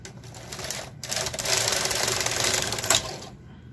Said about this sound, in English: We're now going to knit across and cross our fingers that everything is okay.